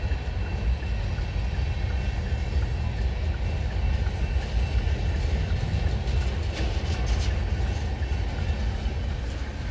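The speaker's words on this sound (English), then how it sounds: "Yeah, it's a long train." A long freight train rolls past in Texas, a loud continuous low rumble with rattling cars and faint clickety-clack, steady and close for the whole stretch with no talk.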